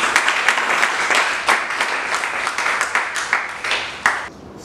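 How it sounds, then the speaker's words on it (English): An audience at a fashion lecture applauds its guests. The clapping is close and moderately loud, with distinct rhythmic hand claps that thin out near the end. "please give a round of applause for our guests"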